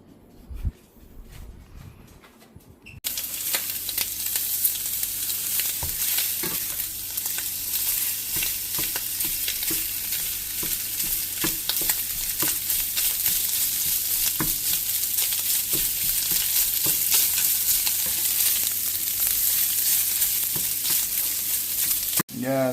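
Sausage meat frying in a pan, a steady loud sizzle with occasional stirring and scraping that starts abruptly after a few quiet seconds and runs on continuously.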